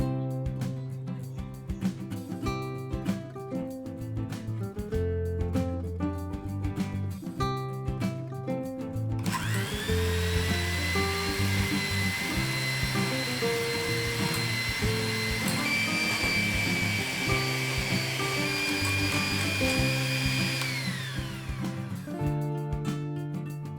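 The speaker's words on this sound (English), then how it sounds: "Then beat everything together until the mixture becomes light and creamy." An electric mixer whirs steadily through a bowl of butter, powdered sugar and vanilla, running close and continuous with no voices. Partway through the pitch rises to a higher, strained whine, then drops back near the end.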